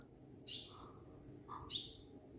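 Fledgling birds on a cliff path give two or three faint, thin chirps spaced apart over quiet outdoor background noise.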